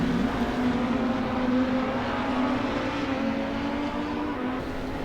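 GT3 race cars lapping Silverstone in Assetto Corsa, a loud sustained engine drone holding a steady pitch with slight rises, close and continuous with no voices.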